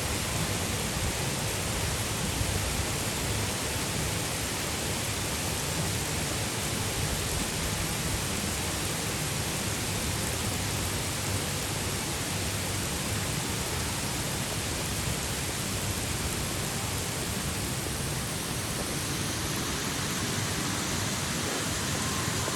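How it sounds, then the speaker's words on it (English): Dense, steady rainfall hisses without a break at Disney's Contemporary Resort in Orlando, Florida, a loud even wash of noise that stays constant throughout. "look at this rain coming down again"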